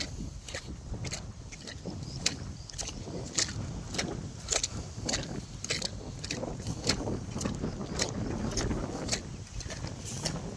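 A petrol-powered crop sprayer runs on a farm field, giving a faint, steady mechanical drone with repeated sharp ticking clicks and rustling throughout, heard at a distance without voices.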